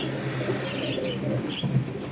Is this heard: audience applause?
no